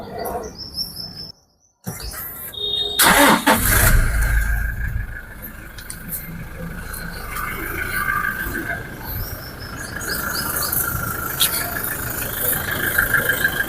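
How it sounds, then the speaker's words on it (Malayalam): A Toyota Innova Crysta with about 1,23,000 km and a recent service cranks and fires with a loud surge, then settles into a steady low idle while birds chirp nearby. "വണ്ടി സ്റ്റാർട്ട് ചെയ്തിട്ട് അതിൻ്റെ സൗണ്ട് ഒന്ന് കേൾക്കാം."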